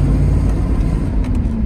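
A 1980 Mercedes-Benz SL 450 accelerating, its engine and drivetrain giving a loud, steady low rumble that holds throughout with no voices.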